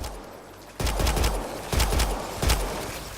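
Gunfire in Mass Effect Andromeda during a fight at a kett nest on Eos, three loud, punchy bursts of rapid shots spaced about a second apart over low ambient hum.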